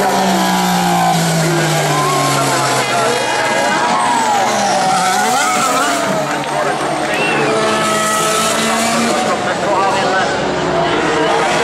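A Ferrari Formula 1 car brakes hard into the Parabolica at Monza in the F1 2014 video game, engine notes sweeping down loud and continuous amid other cars' whine, with a commentator talking over it.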